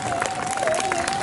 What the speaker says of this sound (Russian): Встречайте громкими аплодисментами!